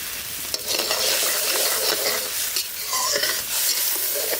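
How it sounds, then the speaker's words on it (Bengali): A singi fish curry with water, salt and turmeric simmers in a pan, giving a loud, steady bubbling sizzle with dense crackling that carries on unbroken for several seconds, close up and without any talking. "সুন্দরভাবে ঝোলটা ফুটছে"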